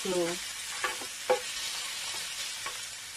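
Sausage and mini beef balls frying in a pot, with a steady background sizzle broken by a few sharp knocks and clatters of stirring; no talking.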